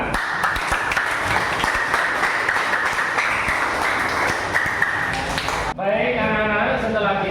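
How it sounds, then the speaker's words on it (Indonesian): A classroom full of students applauds after group SIPA's presentation, loud continuous clapping for several seconds before it cuts off and a voice begins speaking. "Presentasi dari kelompok SIPA, kita berikan tepuk tangan."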